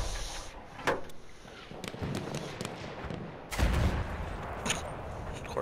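Gunfire from a squad in the shooter game Battlefield 1 cracks in scattered shots and short bursts, with a louder blast partway through over constant battlefield noise.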